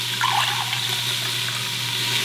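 Beef broth poured for a stir-fry sauce makes a steady liquid stream that runs without a break across the whole short stretch. It sounds moderately loud and close, with no talking.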